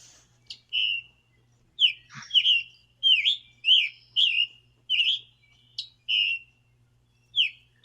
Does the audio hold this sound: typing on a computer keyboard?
no